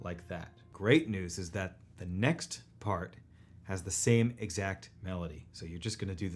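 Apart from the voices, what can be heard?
No everyday noise stands out behind the speech.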